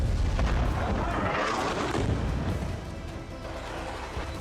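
Loud explosions from Israeli bombing in Gaza, a heavy rumbling boom rolling on continuously with crackling debris and no clear pauses.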